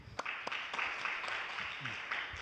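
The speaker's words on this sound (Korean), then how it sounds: "박수 부탁드립니다" An audience claps through a presentation event, steady scattered hand claps from a moderate distance, fairly soft, without talk.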